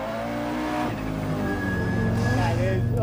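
An Audi S1 rally car's big-turbo engine revs and climbs in pitch while driving, loud and close, with someone talking over the engine noise throughout.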